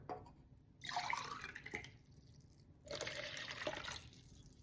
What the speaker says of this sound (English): Then I will add some water.